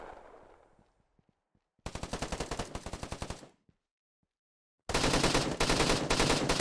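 Automatic gunfire in the Task Force shooter game: two loud, close bursts of rapid rhythmic shots, the first about two seconds long, then a gap of near silence before a denser sustained volley.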